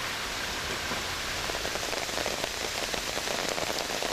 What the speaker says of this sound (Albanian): Rishet e dendura të shiut që përfshin qytetin e Gjirokastrës përmbytën edhe fushën e blerët.